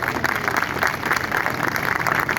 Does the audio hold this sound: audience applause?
yes